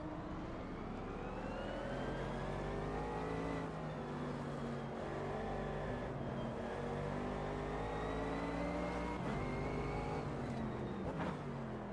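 Race car engine in the Automobilista 2 sim racing game, a loud sustained high-pitched drone rising and falling through gear changes and braking, with no talk.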